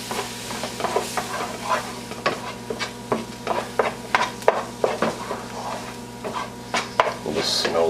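Tomato paste and Worcestershire are stirred into a sizzling pan for Salisbury steak: a run of quick utensil scrapes and clacks against the pan in an uneven rhythm over constant frying hiss, close and fairly loud.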